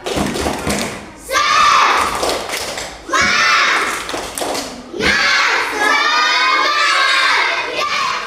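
A classroom of schoolchildren performs a spirit clap, rhythmic group claps and thumps mixed with loud shouted chanting in three energetic bursts, close and lively.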